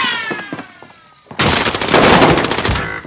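In the video game Renegade, a thin tonal sound fades out, then a sudden loud burst of rapid gunfire erupts and continues as dense automatic shooting.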